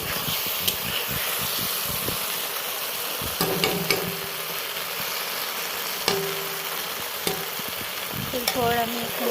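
A mustard, green chili and onion paste sizzles and fries in a pan while being stirred, with steady frying hiss and scattered scraping clinks of the spoon throughout.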